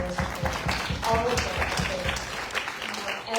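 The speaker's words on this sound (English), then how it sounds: "give an applause to the Friends of Buttonhook Forest" An outdoor rally audience applauds the Friends of Buttonhook Forest, with steady dense clapping running the whole time under a voice.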